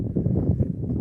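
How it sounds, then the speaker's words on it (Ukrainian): Wind buffets the microphone in an open winter wheat field with a low, rumbling, gusty roar that fluctuates steadily, close and fairly loud, with no voices. "Відразу вибачаюсь за вітер, тому що вітер тут ще більший."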